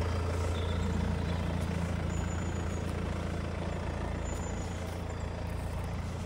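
A 2015 Mercedes SLK 250D AMG Sport cabriolet's diesel engine idles, a steady low rumble with a constant dense drone and no talk over it.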